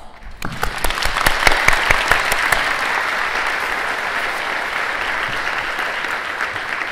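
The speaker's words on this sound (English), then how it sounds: "But I do think that you all deserve a round of applause." Sustained applause from a graduation audience at a nursing pinning ceremony in December 2012, beginning with scattered claps that quickly build into a loud, steady wash of clapping lasting several seconds.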